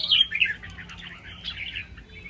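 A red-whiskered bulbul sings in a rapid run of bright chirps and warbled phrases, fairly close and clear over a low steady background hum, with a second burst of song near the end.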